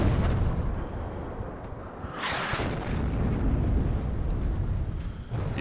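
Nona self-propelled mortars fire in the strategy game WARNO, a continuous, rumbling barrage of booms and blasts, loud and dense, with a sharper rushing burst partway through.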